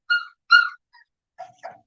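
A month-old puppy whimpers and yips in four short, high-pitched cries, the first two louder and the last two softer, close by with no talking.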